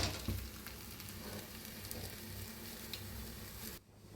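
A chapati roasting on an oiled hot tava over full gas gives a steady, close, even sizzle that holds for several seconds, then cuts off abruptly near the end.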